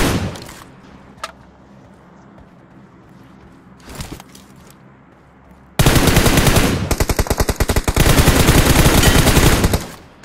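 Machine gun fire in PUBG on the Livik map: a few isolated shots early on, then a loud, sustained close-range burst of rapid rattling fire.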